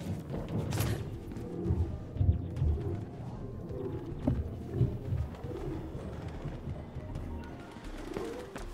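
Pigeons coo in soft, repeated rounded calls in the game Mirror's Edge Catalyst, close but fairly quiet, with a few thumps in between.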